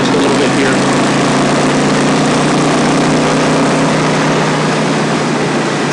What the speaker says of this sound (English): Got a nice exhaust note to it.